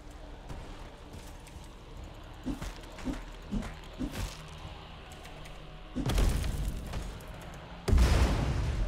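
A few muffled thumps, then two loud, sudden grenade explosion blasts near the end in the multiplayer video game Sinderfury, each with a rumbling burst of noise.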